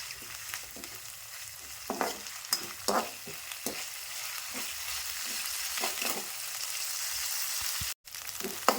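Ginger-garlic paste and onions fry in a pan, a soft steady sizzle broken by repeated scraping strokes of a stirring spoon at close range, with no talking.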